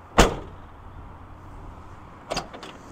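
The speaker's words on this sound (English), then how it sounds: "the hood never really releases all the way until I shut the door" Door of a Chevrolet squarebody pickup truck shutting, a sharp close thump near the start followed by a second, softer double clunk about two seconds later, alone in a quiet setting.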